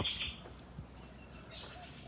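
Birds sing in a sunlit mangrove in the early morning, with a few faint, high chirps and calls at a distance over a quiet outdoor background.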